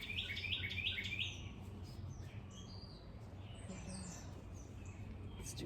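Small songbirds chirp and tweet around a backyard bird feeder, a burst of rapid high calls at the start giving way to scattered lighter chirps over a steady low outdoor rumble.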